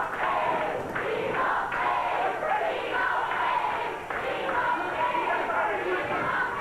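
A 1989 Memphis wrestling crowd chants for Freddy, steady rhythmic cheering filling an arena, with a voice speaking over the crowd.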